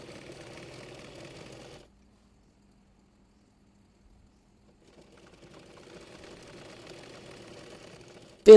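Sewing machine stitching kameez body seams from armhole to hip, a faint steady whirring run that stops for a few seconds of silence, then starts again softly and ends in a sharp click.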